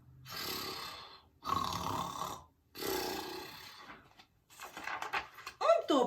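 A bear snoring in a children's bedtime story: three long, loud, rasping roar-like breaths with short pauses between, followed by scattered rustling and clattering noises.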